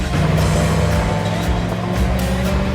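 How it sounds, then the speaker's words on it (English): A vehicle drives off-road on the sand of an Outer Banks beach, its engine giving a steady, loud, continuous rumble with broadband wind and tyre noise throughout, and no talking. "I'm driving on the beach, which, believe it or not, is totally allowed here."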